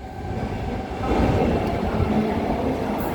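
A Sydney Trains T4 suburban electric train bound for Cronulla rumbles and hums as it pulls away from the station, its steady drone growing slightly louder, with no voices.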